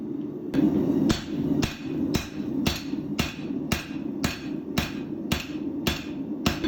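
A hammer pounds a hot Damascus steel billet during forge welding for a twist Damascus bowie knife. About a dozen loud, evenly spaced strikes ring out over a low steady hum.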